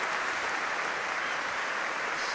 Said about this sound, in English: Just applause for the medical staff who reacted superbly quickly to the incident.